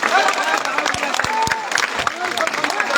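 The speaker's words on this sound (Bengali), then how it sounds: "তাদেরকে হাতে তালি দিয়ে স্বাগত জানাই" Crowd applause at an outdoor political rally in rain, a dense, continuous patter of many hands clapping, loud and near, with a voice briefly rising over it.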